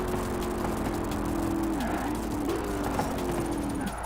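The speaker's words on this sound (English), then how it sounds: "Listen to that supercharger." A supercharged car in the Forza racing game runs in first-person view, a steady tonal whine that holds, dips briefly and resumes over a low engine drone, moderately loud with no talk.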